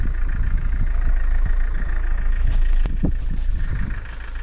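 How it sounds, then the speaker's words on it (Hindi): A Mahindra Scorpio SUV engine idles low and steady while the vehicle reverses, a close, continuous rumble with a few light knocks and clicks and no voices. "देखिए बैक हो रही है अभी गाड़ी हमारी।"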